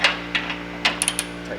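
An 18mm ratchet wrench clicks in quick bursts while tightening a smart car motor mount bolt, the close, crisp pawl ticks coming in several short groups over a low steady hum.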